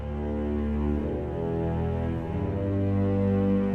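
Low bass orchestral notes from a free sample-library plugin ring out as sustained, harmonically rich tones, held steadily and loud with slight shifts between pitches, no voices.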